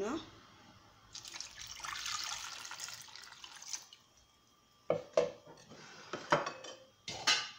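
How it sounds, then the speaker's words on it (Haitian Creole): Three cups of water poured into a cooking pot while making a herbal home remedy, a running splash followed by clinks and knocks of pot and utensils, fairly close and quiet. "Et puis, m'ajouter 3 tasses de l'eau."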